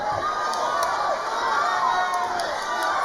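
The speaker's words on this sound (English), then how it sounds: "And the fans are cheering for Usmanov charging forward with those punches" Fans at a boxing event cheer and shout continuously as a fighter charges forward throwing punches, a dense, loud arena roar with rising whoops over the top.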